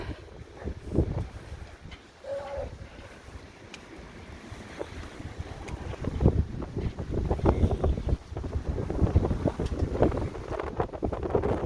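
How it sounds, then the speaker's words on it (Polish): Rough ocean beside a seaside park churns under wind, with low rumbling surf and gusts buffeting the microphone, growing louder and more turbulent in the second half. "Ocean wzburzony."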